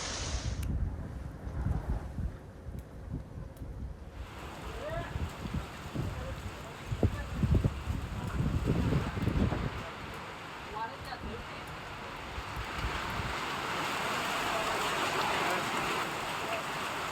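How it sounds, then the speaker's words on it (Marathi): Heavy rain with gusting wind in the Kapasi valley near Kolhapur, roaring in a dense broadband wash that buffets the microphone, starting quieter and then building into a sustained, loud downpour. "कापसी खोऱ्यात सोसाट्याच्या वाऱ्यासह पाऊस झालाय।"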